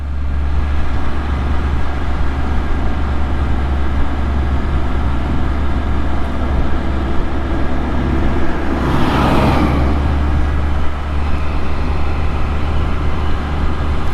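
A Can-Am Spyder three-wheeled motorcycle rides along a road through a steep rock cut, a constant loud engine drone mixed with heavy wind rush and a brief passing whoosh midway.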